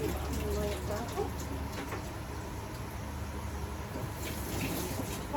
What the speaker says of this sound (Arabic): هنصفيه بقى من الميه بتاعته